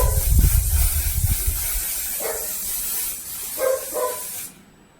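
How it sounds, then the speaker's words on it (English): A continuous, close hiss of mattifying makeup setting spray lasts about four and a half seconds and then stops abruptly, with a few soft thumps underneath. "I am going in with the One Size Until Dawn Mattifying Waterproof Satin Spray."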